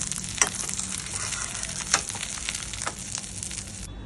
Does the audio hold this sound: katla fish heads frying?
yes